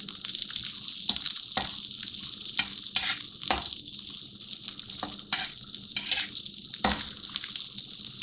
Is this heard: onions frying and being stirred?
yes